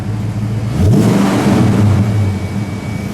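A 1992 Ford Mustang SAAC Mk1 with a 5.0-liter V8 revs up loudly with a rising growl, holds for a moment, then settles back to a rumbling idle.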